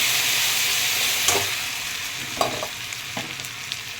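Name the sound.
sautéing with salt and turmeric in pan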